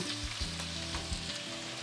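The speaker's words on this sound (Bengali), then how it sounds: "আলু আর পটল ভাজা ভাজা হতে খুব একটা সময় লাগে না" Potatoes and pointed gourd fry in a pan, giving a steady close sizzle with occasional stirring knocks over a short stretch, and no one speaks.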